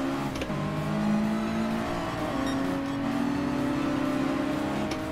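Honda S2000 engine in Gran Turismo Sport, a steady sustained drone with a rising pitch shift partway through as the car drives along, continuous and moderately loud with no talk.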